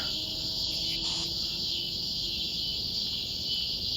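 Cicadas in a roadside area drone in a loud, unbroken high-pitched buzz that fills the whole stretch, steady throughout with no other sound standing out.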